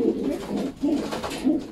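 Racing pigeons coo in a repeated, rounded rhythm of about three soft calls, close by and alone without any talk.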